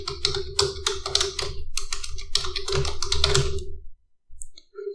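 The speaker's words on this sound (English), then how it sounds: "I should type more to explore more about the tags" Rapid clattering keystrokes on a computer keyboard as search tags are typed, dense and close-up in bursts with brief pauses, then a few isolated clicks as the typing stops.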